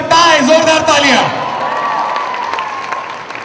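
A crowd at a charity boxing match cheers and claps at once, loud and busy at first, then settling into a steadier wash of applause with scattered shouts.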